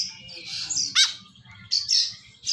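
A kekep babi (white-breasted woodswallow), shown as a male and female pair, gives a few sharp, high chirps and one loud rising squawk, close and clear over a faint low chatter in the background.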